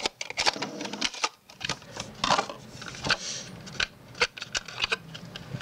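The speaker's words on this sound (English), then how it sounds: "Pull the spool out." Plastic clicks, snaps and rattles as the spool is pulled out of a 13 Fishing Concept KP baitcasting reel, a dense run of close, small mechanical taps and scrapes with no talk.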